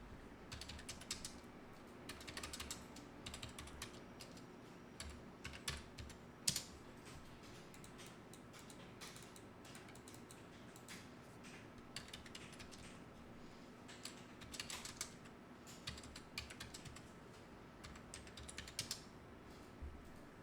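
Keyboard typing while accounting data is entered for a computerized accounting exam problem, a steady run of light, close clicks and key taps in quick bursts over a low room hum, with no talking.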